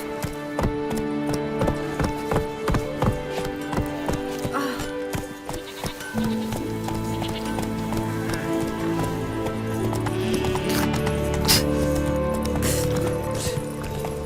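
Horse hooves clip-clop at a steady walking rhythm in The Witcher 3: Wild Hunt, close and clear over a backdrop of game music that swells midway.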